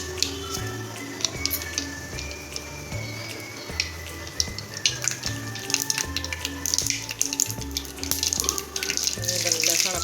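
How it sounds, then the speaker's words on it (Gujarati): Mustard seeds spit and crackle in hot oil in a kadai, a dense sizzle with scattered sharp pops building over the ten seconds, with a low rhythmic clatter beneath. "તો એની અંદર આપણે એડ કરી દઈશું રાઈ."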